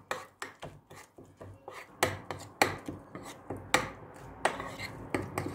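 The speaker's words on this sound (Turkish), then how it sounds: "Hamurumuzu iyice karıştırdık." Diet pizza dough being mixed with water, a series of regular wet slapping and scraping strokes about twice a second, close and fairly loud, with no talk.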